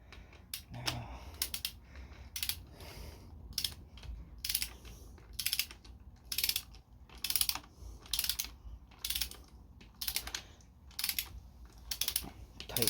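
A hand ratchet tightens bolts on a Honda Civic EK engine during a piston and ring install, giving repeated bursts of fast clicking strokes, close and steady with no voices.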